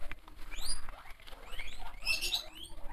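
Pet guinea pigs calling over and over, a close chorus of rising high-pitched squeaks and whistles overlapping in quick bursts, with light scuffling underneath and no talking.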